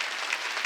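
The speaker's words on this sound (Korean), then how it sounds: "박수치라고." A church congregation claps briefly at a New Year's Eve service, a dense burst of hand claps without pauses.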